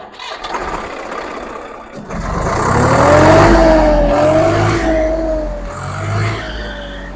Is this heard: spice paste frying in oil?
no